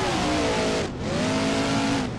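A monster truck engine revs hard in BeamNG during a freestyle event, a loud continuous roar that rises in pitch, drops briefly, then climbs again, with no speech.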